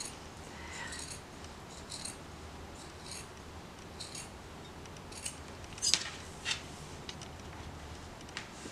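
Scissors snip through fabric and batting for a craft project, a series of short, quiet crisp cuts and rustles at close range, repeated irregularly with no talking.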